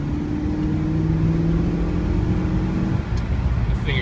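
1970 Pontiac LeMans with a 4.8-litre Vortec V8 and 4L60E transmission accelerating, a steady loud engine drone with road noise heard from inside the car.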